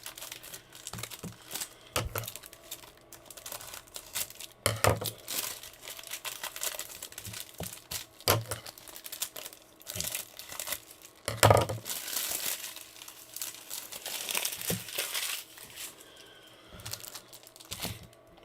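Crinkly crackling and tearing of foil wrappers as trading card packs are ripped open, with sharp rustles coming in bursts close by, no talking.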